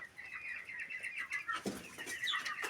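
Chickens clucking and calling in a yard, several birds close by with repeated bright squawks and a low flutter, no talking.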